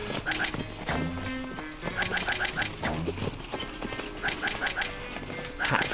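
Horse hooves clip-clop in a rhythmic clatter in the game Max Gentleman, with a horse pulling a carriage, set against music and occasional bird coos.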